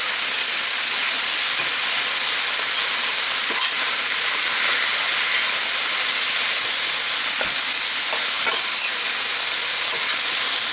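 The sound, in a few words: vegetables frying in hot oil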